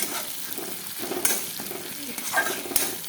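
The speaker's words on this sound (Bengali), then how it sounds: "পেঁয়াজটা ভাজা ভাজা হয়ে আসছে।" Onions sizzle steadily in a pan while being fried for a Bengali jackfruit and prawn curry. A spatula scrapes and stirs through them now and then, close and fairly soft.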